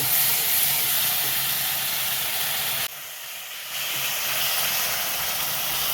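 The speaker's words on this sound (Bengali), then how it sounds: "এই মশলাটা ভালো করে কষিয়ে নেব।" Spice paste of chilli powder, coriander powder and ginger-garlic paste sizzles in a hot pan with a constant bright hiss that dips briefly midway before returning at full strength.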